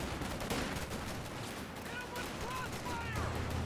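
Dense cannon fire and small-arms shots crackle through a Company of Heroes 2 battle, with overlapping bursts and explosions forming a busy, continuous din.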